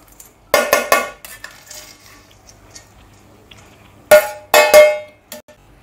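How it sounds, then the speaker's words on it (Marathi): Roasted edible gum worked into flour in a metal pan for fenugreek laddoos, two clusters of sharp metallic clanks and scrapes from a spoon against the pan, loud and close, separated by a quiet pause. "आता हे डिंक आपण पिठामध्ये मिक्स करूया चांगलं."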